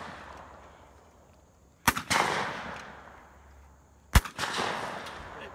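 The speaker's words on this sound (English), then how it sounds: "They're shooting shotguns today, breaking clay targets." Shotguns fired at clay targets at an outdoor education shooting class, two loud sharp blasts a couple of seconds apart, each trailing into a rolling echo over steady outdoor background noise.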